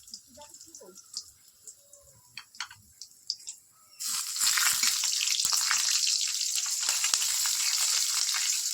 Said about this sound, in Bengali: এই তেলের মধ্যেই আমি শুকনো লঙ্কা, তেজপাতা এখানে দিয়ে দেবো।